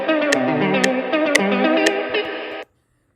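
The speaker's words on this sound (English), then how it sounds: "I can add reverb and wobble to it" A sustained synth melody in FL Studio sounds thick and wavering under a warbling reverb and wobble plugin effect, with a few sharp clicks, then cuts off abruptly into silence.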